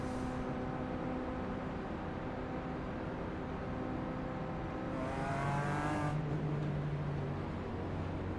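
A field of race cars idles and revs on the grid in the iRacing video game, with a steady, loud engine drone and rising, fluttering revs partway through.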